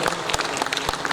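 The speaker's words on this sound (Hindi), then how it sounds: "जोरदार तालियों से स्वागत करें" Audience at an annual community day gathering in Jabalpur claps loudly to welcome a guest, a brief, dense burst of applause.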